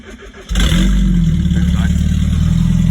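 A Mk1 Mazda MX-5 engine cranks briefly, then catches and settles into a loud, steady idle close by.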